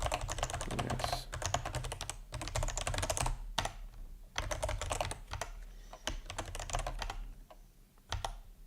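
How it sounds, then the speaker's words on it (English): Typing on a computer keyboard in a quiet room at home after work: steady bursts of fast, close key clicks broken by short pauses, with a few louder single keystrokes over a low hum. "at least I did not drop my typing skills during the break"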